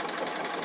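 Domestic sewing machine stitching fabric appliqué for a quilt, a short steady whirring run with fast even motor rhythm, close up and alone.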